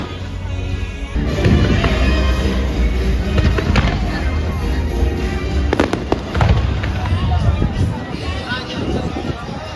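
Fireworks show at Walt Disney World, sharp bursts and crackling explosions going off over a steady murmur of a watching crowd, with people talking nearby.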